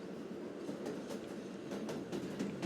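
A train in the Roblox game Jailbreak rolls along steadily, a continuous rumbling rail noise with faint rhythmic clacking of wheels throughout.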